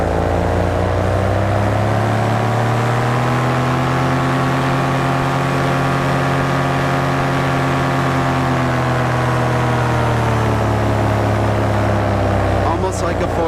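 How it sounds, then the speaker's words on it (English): A BlackHawk Titan 210 paramotor engine in flight, with a Nitro size 31 glider, drones loudly and steadily. Its pitch dips toward idle, then rises again as power is rolled back on. A voice talks over the engine. "I can drop down to an idle and just roll the power on"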